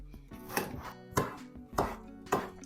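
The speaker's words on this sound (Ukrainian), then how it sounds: "Також наріжу дрібненько зелену цибулю." A knife finely chops green onion on a board, four sharp, evenly spaced strikes with light scraping between them, close and clear with no talking.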